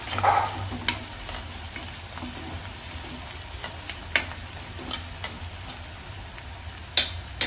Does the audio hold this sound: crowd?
no